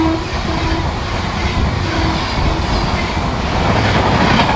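A Bhagat Ki Kothi–Dadar Western Superfast Express rushes past alongside a moving express train, a loud, steady rumble of rail wagons and wheels with faint horn tones, heard from on board.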